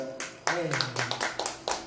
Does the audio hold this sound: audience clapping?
yes